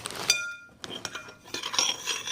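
A spoon clinks and scrapes against a bowl while slime paste is being mixed, a few short metallic taps and stirring scrapes, close and fairly quiet, with brief speech mixed in.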